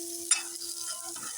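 Fried eggplant sizzling in hot oil, a continuous close crackle with a faint steady hum beneath and a brief scrape of stirring near the start.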